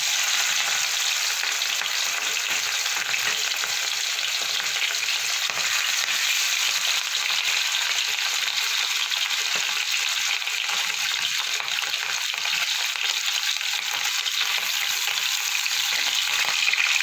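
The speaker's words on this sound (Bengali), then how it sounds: "তেলটা আমার গরম হয়ে গেছে, এবার আমি মাছটা ভেজে নেব।" Rohu fish sizzles in hot oil in a wok, a loud, steady hiss and crackle that continues unbroken and close throughout, with no voices over it.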